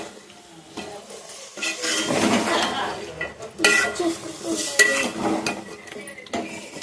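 Chicken curry being stirred in a pan on a low flame, a spoon scraping and clinking against metal in uneven bursts over a soft sizzle.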